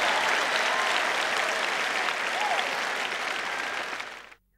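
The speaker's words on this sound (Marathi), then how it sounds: "तुम्ही जर तसं वागणार असाल तरच टाळ्या वाजवा" Audience applause after a Marathi-language sermon, a dense, steady clapping from a large crowd that holds for about four seconds and then quickly fades out.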